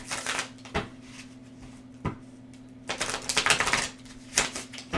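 Tarot cards are shuffled by hand in quick riffling bursts, sharp and close, with short pauses between the shuffles; no one speaks.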